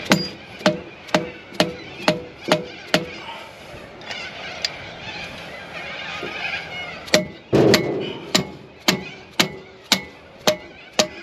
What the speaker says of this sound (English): I don't like using metal hammers as I continue to pound the crap out of it after it's come free.